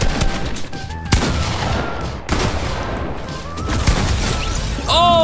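Rapid gunfire from a Fortnite match, bursts of shots crackling close and loud over game effects, with a voice speaking briefly among them.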